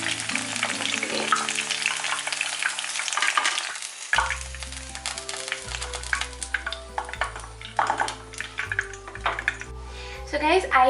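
Chicken fries in hot oil in a pan for dry chilli chicken, giving a continuous sizzle and bubbling under background music, with a person talking over it.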